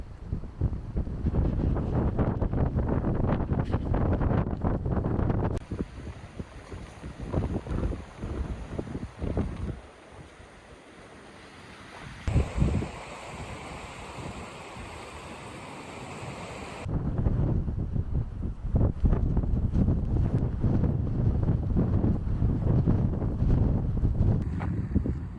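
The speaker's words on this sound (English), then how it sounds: "It is windy. It is cold. I think the gusts got up to 34 miles an hour" Gusty wind buffets the microphone on a footbridge in Denali National Park, roaring loudly in surges for most of the stretch with a calmer lull in the middle and no voices.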